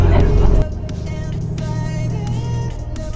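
A highway bus idles and moves off with a steady low engine drone toward Kyoto, louder at first then settling into an even hum, with a voice speaking over it.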